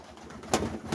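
Homing pigeons coo inside a loft: soft, low murmuring calls with a louder burst midway and another near the end, close by with no talk.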